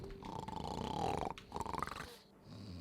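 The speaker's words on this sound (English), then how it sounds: "Frampt has some pretty good snoring sounds" Frampt, the great serpent-like primordial creature in the video game Dark Souls, snores with a deep, rumbling, wheezy rattle in two long breaths separated by a short pause, loud and close with no talking.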